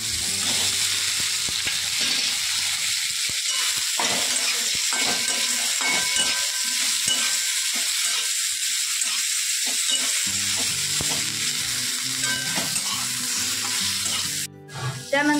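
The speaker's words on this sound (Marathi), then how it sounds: "या शेंगा आपण थोड्याशा तेलामध्ये परतून घेऊया" Drumsticks sautéing in a little oil with cumin and turmeric in a kadhai, a loud continuous sizzle under repeated stirring scrapes and clinks, with a brief clatter near the end.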